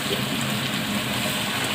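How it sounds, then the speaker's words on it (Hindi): Water poured into a cooking pot for pulao, a steady gushing pour heard up close and loud for the whole moment, without speech. "अब इसमें शामिल करेंगे पानी।"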